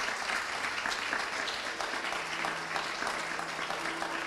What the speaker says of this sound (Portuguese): Você pode dar uma salva de palmas ao Senhor Jesus?